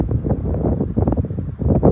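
Gusty wind buffets a microphone outdoors beside a BMW X5 45e plug-in hybrid, a loud, low, continuous rumble that surges and dips with no speech.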